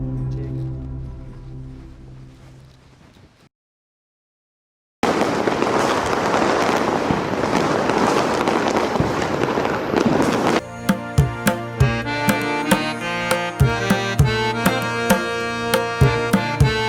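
Diwali firecrackers and fireworks go off, first a dense roaring crackle and then a rapid string of sharp, loud pops and bangs close by, after a short silent gap.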